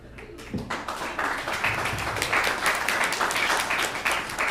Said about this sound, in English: if we could hold our applause to the end, it is kind of disruptive and kind of slows us down a little bit